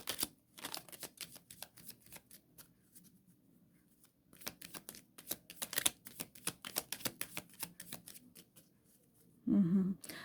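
Tarot cards being shuffled and handled in a quiet room, a run of soft riffling flicks and taps at close range, with a brief louder rustle near the end and no talking.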